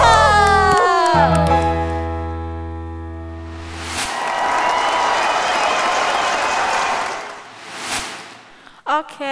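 A children's church congregation bursts into cheering and applause for God, a loud wash of clapping and shouts that swells for a few seconds, fades, then flares briefly again after singing ends.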